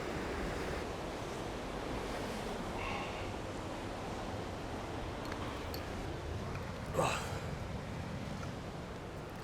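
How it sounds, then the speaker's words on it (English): Strong wind buffets the microphone on an Australian beach, a steady loud roar mixed with the wash of surf, and a brief gust peaks near the end. "It's very windy today."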